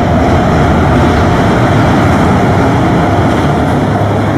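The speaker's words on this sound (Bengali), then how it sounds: "আবার একটা ব্রিজ বেরোচ্ছে ট্রেন।" A train rumbles across a bridge as a radio drama sound effect, a loud, dense, continuous low roar with steady rattling that holds unbroken throughout.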